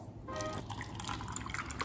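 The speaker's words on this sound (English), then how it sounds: "Then what you're gonna do is you're gonna pour water in it." Water pours into a jar holding one or more Halloween skulls, a close, steady liquid splash and trickle with dripping textures lasting under two seconds, no talking.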